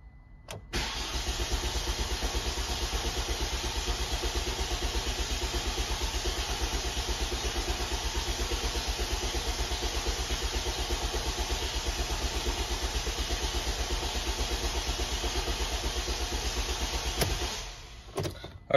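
A Ford Transit Connect van with timing belt trouble and a weak battery cranking continuously without starting, a fast rhythmic starter-motor chug held steady for about sixteen seconds before stopping.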